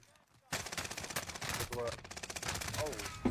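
Three-round burst rifle fire in a first-person shooter video game: sharp, rapid gunshots burst in after a brief quiet and repeat in tight clusters, loud and close.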